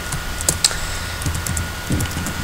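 Quick, irregular keystrokes on a computer keyboard, close up, as a name is typed, with small bursts of clicks over a low background hum.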